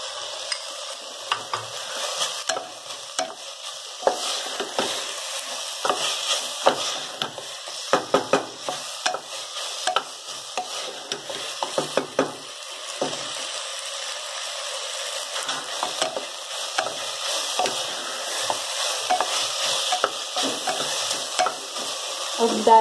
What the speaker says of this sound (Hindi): दो मिनट के लिए इसको फ्राई कर लेना है।